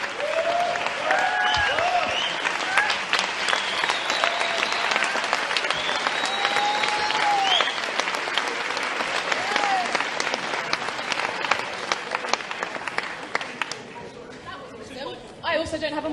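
A large audience applauds steadily for a long stretch after a talk, dense clapping with some cheering and chatter mixed in, tapering off near the end.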